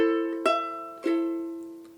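Ukulele plucking the opening measure of a song from The Sound of Music: a few clear, bright notes and chords struck about half a second apart, each ringing out and fading, quiet and alone.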